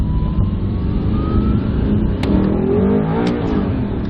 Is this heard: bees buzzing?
no